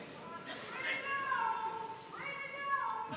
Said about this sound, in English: Is there a cat in?